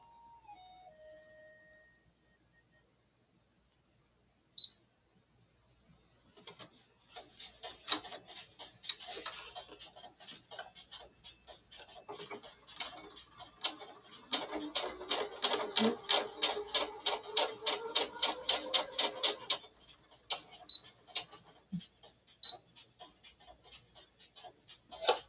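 A sewing machine stitching two-toned fabric basket handles, running in steady rapid bursts of needle clatter with short pauses between runs, close and clear with no talk.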